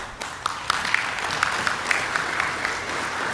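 A conference audience applauds the event staff, a dense, steady wash of clapping from a large crowd with a few sharper individual claps standing out, sustained and fairly loud throughout.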